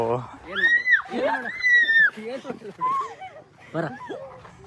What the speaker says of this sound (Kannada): ಹಸ್ಕಿ ಮರಿನಾ ಇದು?